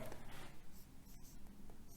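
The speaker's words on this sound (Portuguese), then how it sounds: "Vou escrever, ó." A pen scratches softly across paper in steady, faint strokes while a percentage math exercise is written out. There is no audible talk.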